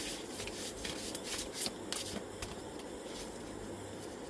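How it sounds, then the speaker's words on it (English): Oracle cards are shuffled in quick, faint riffles and soft rubbing sounds close up, with irregular papery bursts. "Lucky you can't see my shuffling completely."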